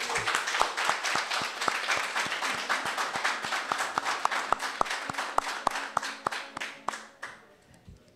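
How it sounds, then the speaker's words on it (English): Applause at a sports complex groundbreaking ceremony, a crowd clapping in a brisk wash with a distinct rhythmic hand clap near the mic, fading out toward the end. "And I think he duly deserves a round of applause."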